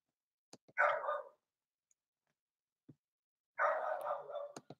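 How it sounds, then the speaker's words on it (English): A dog barks in two bursts of sharp, close barks separated by a quiet gap, with a few soft clicks and taps in between and no talking. "my dog's at it again"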